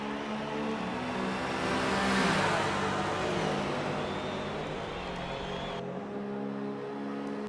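Race cars run nose to tail through the Ford chicanes in a Le Mans racing video game, a dense, continuous engine roar that swells midway and stays loud throughout.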